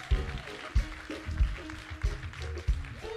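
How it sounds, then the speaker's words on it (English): A church congregation claps along in a steady rhythm, each clap landing about every two-thirds of a second over music and a busy, reverberant room. "Come on, clap your hands."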